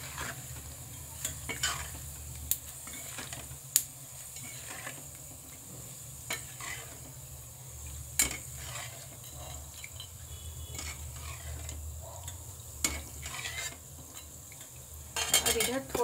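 Bhujia frying in hot oil in a pan gives a continuous soft sizzle, broken by scattered sharp metallic clinks and scrapes from stirring and lifting with a utensil, fairly quiet throughout.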